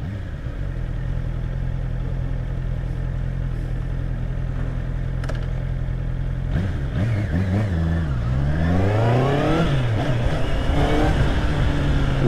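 A 2024 Honda CB650R four-cylinder motorcycle engine runs loud and close while riding, holding a steady drone before revving up and down through several rising gear pulls.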